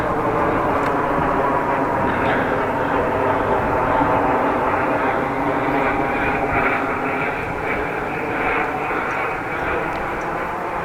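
Twin-propeller airplane passing overhead on a country road route near Groningen, a steady broad engine drone that stays fairly loud throughout, mixed with road and wind noise.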